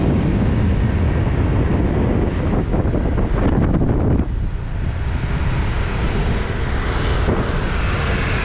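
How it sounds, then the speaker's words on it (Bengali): Strong wind buffeting the microphone at a beach in Phuket, Thailand, with a steady roar that could include surf, loud and continuous throughout with a brief dip midway. "আমরা আছি একটা বিচ সাইডে, এই যে।"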